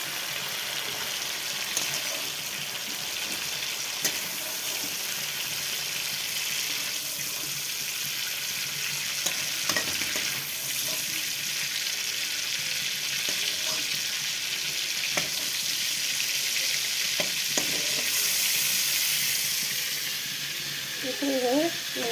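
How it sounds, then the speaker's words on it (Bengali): Onions sizzle steadily in hot oil in a wok, with occasional faint stirring clicks over the continuous loud frying hiss. "এইভাবে পেঁয়াজগুলো ভেজে নিতে দিল।"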